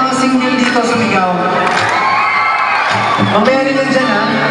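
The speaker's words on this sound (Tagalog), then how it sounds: "Lahat ng mga single dito sumigaw" A concert audience at a live music event shouts, whoops and cheers loudly and continuously, with an amplified voice talking over the crowd.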